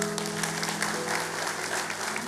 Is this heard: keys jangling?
no